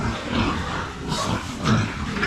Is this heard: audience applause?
no